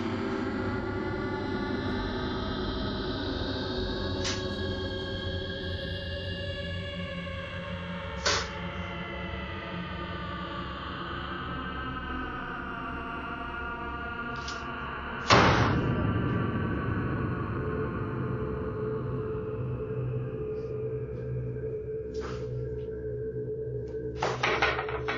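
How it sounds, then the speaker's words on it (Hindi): A door creaks open slowly in a house with a long, wavering groan, followed by a sudden loud slam around midway, then lingering creaky tones; no one speaks. "मगर कुछ समय बीतता है और धड़ाम, दो में से एक दरवाजा बंद हो जाता है"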